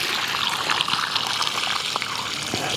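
Water trickling and flowing steadily into a cabbage vegetable plot at night, a continuous close wash of running water with small splashes and no talking.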